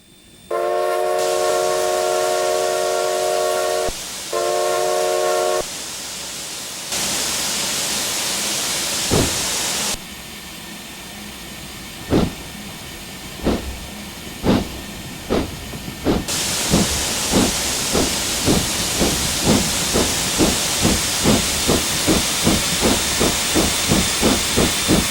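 A steam locomotive in Train Simulator, modelled as a South African 24 class on the Outeniqua Choo Tjoe, sounds a loud two-part whistle, then vents steam with a heavy hiss, followed by chuffs that start slow and quicken into a steady rapid beat.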